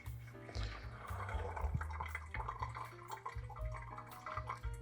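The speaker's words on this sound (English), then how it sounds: "And as soon as I press, the water will go down." Water drains through a Clever Dripper coffee brewer with a plastic body and paper filter, trickling and dripping steadily into the vessel below at close range, with no talk.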